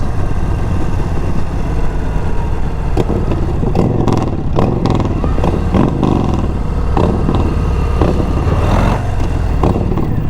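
A 2022 Harley-Davidson Low Rider ST motorcycle being ridden, its engine a loud, continuous rumble with wind and road noise, plus intermittent clattering bursts, no talking.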